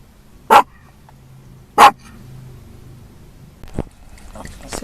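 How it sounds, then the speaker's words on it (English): A pet dog barks twice sharply and loudly at close range during a road trip, the barks spaced about a second apart, followed by quieter shuffling and faint background noise. "now she's got a whole bunch of barking"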